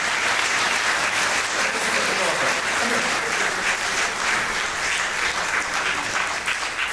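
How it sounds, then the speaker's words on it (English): An audience at a cantorial concert gives a Bar Mitzvah boy a round of applause. The clapping is loud and continuous, filling the space evenly from start to finish. "Let's give him a round of applause."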